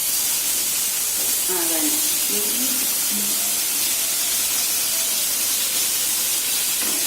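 Kerala-style fish fries in a pan with steady hissing and sizzling that fills the whole clip, while a voice speaks briefly over it.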